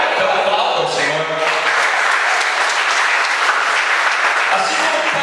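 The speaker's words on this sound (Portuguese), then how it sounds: "Então aplauda o Senhor." A church congregation applauds steadily and loudly for several seconds, a dense broadband wash of clapping with a few voices mixed in.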